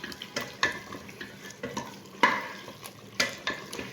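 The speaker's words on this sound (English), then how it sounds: "So I'll just give it a good mix before I add in my peas and the carrots." A spoon stirs beef and tomato stew in a pot, making a series of scraping, wet clacks roughly every half second over a soft background simmer, up close with no voices.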